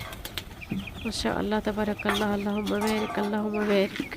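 A hen clucks close by near pigeons in a home coop, her repeated calls running under a voice.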